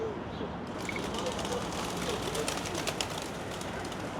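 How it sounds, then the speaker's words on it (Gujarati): Pigeons coo softly amid a busy outdoor wash of city-street noise near Concordia University in Canada, with voices talking and a constant rumble of crowd and traffic around them. "જો અહીંયા આગળ કબૂતરો બધા"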